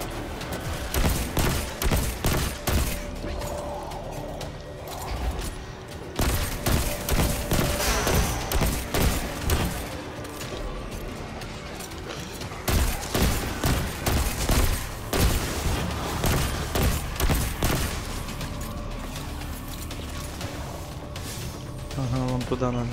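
Gunfire from a weapon in the video game Destiny 2 rattles in rapid repeated bursts with booming impacts throughout, loud and dense, while someone talks over the shooting.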